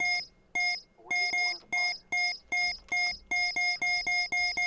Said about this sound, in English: That beeping is still really loud.